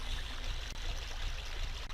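A waterfall inside a dungeon in The Legend of Zelda: Ocarina of Time gives a steady, close rushing wash of water noise, with no voices.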